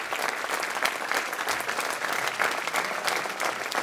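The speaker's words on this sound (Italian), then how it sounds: "facciamo un applauso anche ad Alessia che è qui" A concert audience applauds steadily and densely, a full-sounding room of clapping that holds at an even level throughout with no voices on top.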